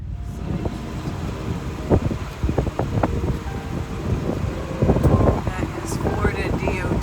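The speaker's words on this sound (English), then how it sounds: "It's a little windy out there." Strong wind during Hurricane Helene rumbles and buffets a microphone outdoors, steady and loud with gusty low bursts, while a voice speaks over it.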